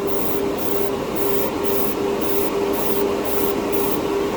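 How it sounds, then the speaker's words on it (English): Airbrush spraying a coat of enamel lacquer onto a scale model, a steady close hiss with a faint whine underneath and rhythmic pulses of spray repeating about twice per second. "I'm still getting used to the airbrush. You know, so let's go ahead and put our coat down."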